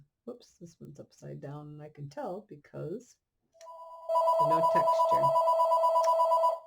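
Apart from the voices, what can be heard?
telephone ringing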